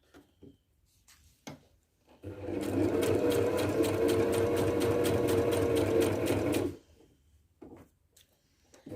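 A sewing machine stitches knit fabric for a t-shirt in one fast, steady run of about four seconds, with quiet handling clicks before and after.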